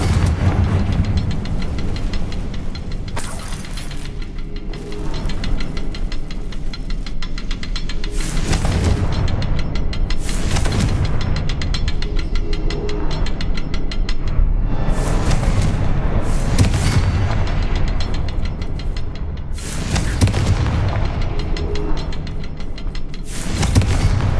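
Fiery Confringo spell blasts in the video game Hogwarts Legacy, a series of loud booming bursts roughly every few seconds over a constant rumbling background.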